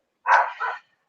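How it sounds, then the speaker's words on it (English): A single short dog bark, clear and close, lasting about half a second before silence. "Apologies if people can hear my dog barking."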